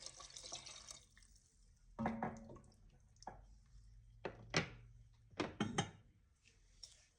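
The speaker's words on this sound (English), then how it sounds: "To this also, I'm gonna add 2 cups of water." Two cups of water splash and trickle into a pot of chicken broth in a few short pours, with quieter drips and faint kitchen clatter between them.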